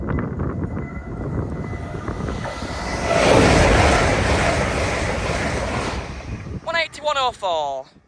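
A Grand Central passenger train passing the Bathley Lane level crossing, a loud rushing roar with wind buffeting that swells midway and then fades, followed by someone speaking near the end.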